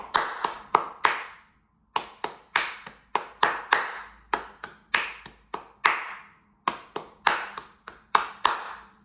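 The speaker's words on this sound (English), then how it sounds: "Now, your clapping pattern sounds like this." Rhythmic hand clapping for the intro of a song, taught on ukulele: crisp, close claps in a repeating pattern of quick groups with short pauses, played alone without talk.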